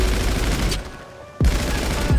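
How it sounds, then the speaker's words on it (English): Rapid automatic gunfire in GTA Online, loud dense bursts that break off briefly and then resume, with no talk over them. "We're still getting shot at"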